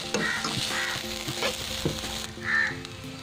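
Chopped capsicum sautés in a pan for hot and sour chicken soup, with a steady close sizzle and occasional stirring scrapes throughout, no voices.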